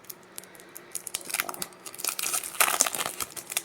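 Craft paper notebook pages are handled and turned up close, a run of dry crinkling rustles and crisp flicks growing busier and louder, with no talking.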